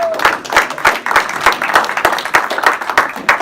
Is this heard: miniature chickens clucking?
no